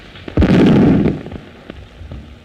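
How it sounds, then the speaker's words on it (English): Artillery shells exploding in a 1931 film, one loud heavy boom with a rumbling tail lasting under a second, followed by a few fainter thuds and crackles. "what were those explosions? Shells"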